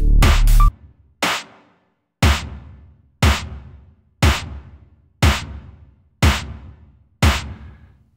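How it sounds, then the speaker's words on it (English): Tuned snare drum struck alone at a slow, steady pace, about eight single hits a second apart, each crack close and loud with a long reverberant tail fading before the next. "this snare sounds something like this"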